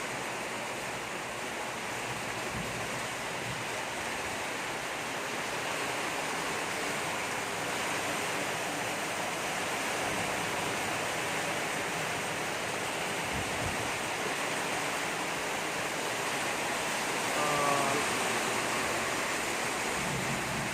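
Heavy rain pours steadily with gusting wind during a thunderstorm around Bangkok, a dense unbroken roar of hiss that stays loud and even throughout.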